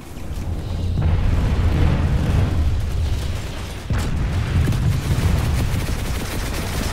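A tank explodes in the video game Planetside 2 with a loud, sustained booming blast that rumbles low and dense, breaks off, then a second heavy explosive roar follows amid gunfire-like crackle.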